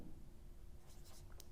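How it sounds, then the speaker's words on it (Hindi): Marker or chalk scratching across a lecture board, a few short faint strokes over a low steady room hum. "सो अगर मैं यहां पर लिखता हूं"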